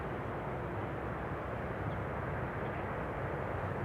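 A German Airways regional jet in old livery, flying for KLM Cityhopper, arrives at Amsterdam Schiphol Airport as a steady, faint, distant roar that holds evenly for a few seconds, with no one talking.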